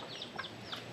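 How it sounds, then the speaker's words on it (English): Chickens cluck in short, faint calls a few times over steady outdoor ambience on a path near a waterfall in Bali. "you got some chicken there."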